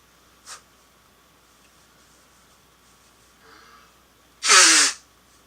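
A single loud, sharp sneeze caused by seasonal allergies, preceded by a small sniff and a quiet intake of breath in an otherwise quiet room.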